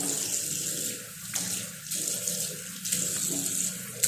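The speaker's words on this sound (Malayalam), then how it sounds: "കുറച്ച് വെള്ളം കൂടെ ഒഴിച്ച് കഴുകി കഴിഞ്ഞാൽ" Water is poured over a bathroom floor in a continuous splashing rush that swells and eases in uneven surges, fairly close and alone.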